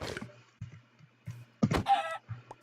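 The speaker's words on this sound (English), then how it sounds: "Okay, kill another chicken." Chicken clucks from the Minecraft video game, several short game-sound bursts spaced through the clip with a brighter, louder squawk near the middle, set against faint low background tones.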